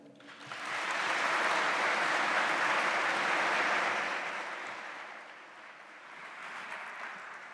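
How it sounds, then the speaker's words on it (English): Audience applause at a university welcome event for an incoming class, a sustained wash of many hands clapping that swells, holds for several seconds, then tapers and briefly picks up again, with no talk over it. "Let's give another round of applause for her and all of our amazing speakers today."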